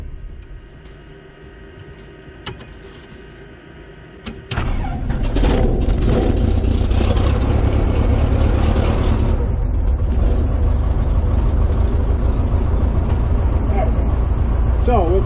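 After some quiet clicks, the small piston engine of a RANS S-21 light aircraft cranks and catches, then settles into a loud, steady, throbbing run up close.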